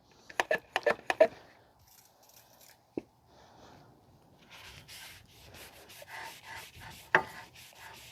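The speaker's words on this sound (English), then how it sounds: "now I'm going to clean the inside of the brake rotor" Intermittent scrubbing and wiping on the inside of a rear brake rotor from a 2010 Toyota Camry 2.5, a cluster of quick close scrapes and then a softer, longer rubbing passage with one sharp tap between.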